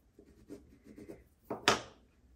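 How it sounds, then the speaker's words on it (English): A water-soluble graphite pencil scratches across paper in short, soft strokes, building to two louder, sharper scrapes near the end, close and alone with no talk. "this is a water-soluble graphite pencil."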